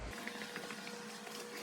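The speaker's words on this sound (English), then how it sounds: "no amazing house would be complete without an elevator" A home elevator in a grand luxury lodge hums steadily as it runs, with a constant low mechanical drone and faint rattles carrying through the car. There is no talking.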